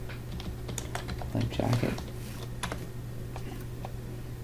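Typing on a computer keyboard: a handful of quiet, irregular key clicks over a steady low hum, with a brief louder cluster midway and a single spoken word.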